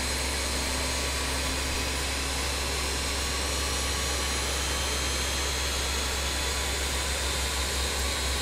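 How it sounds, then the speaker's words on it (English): A BAe 146-200 jet engine spools up in Microsoft Flight Simulator 2020, giving a steady, loud broadband roar and hum that holds throughout with a slight swell near the end, with no talk. "You can actually hear the engine starting up."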